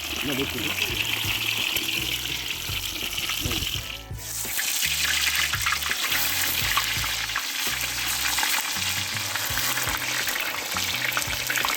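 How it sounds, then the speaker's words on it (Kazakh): Onions frying in oil for kuyrdak over an open fire: a dense, steady sizzle runs close and loud throughout, dipping briefly partway through, with faint low voices underneath. "Майдың біразын құйып алып, пияз қуырып бастап жатырмыз."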